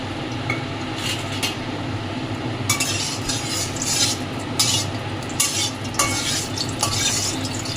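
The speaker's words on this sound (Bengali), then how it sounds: "তেলটা গরম হচ্ছে, গরম হোক, আমি গোটা গরম মশলা দেবো।" Mustard oil heats in a pan for frying whole spices for a chicken curry, a steady low hiss broken by sharp clinks and scrapes of a metal spoon against the pan, heard close and without talk.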